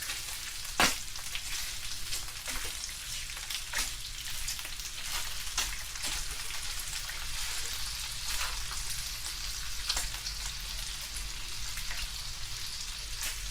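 Bacon frying in a pan as part of a breakfast burrito, crackling steadily and densely throughout like rain on a surface. Occasional sharp pops and utensil ticks land on top, and nobody speaks.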